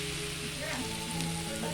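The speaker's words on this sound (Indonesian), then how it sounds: "goreng payeke" Food frying in a wok of oil at home during preparations for a memorial gathering: a steady, close sizzle and crackle throughout, with faint background voices and a few tonal clinks underneath.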